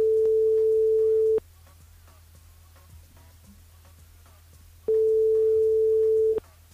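A telephone ringback tone sounds while a radio host calls a listener: two long steady beeps separated by a few seconds of quiet line hiss.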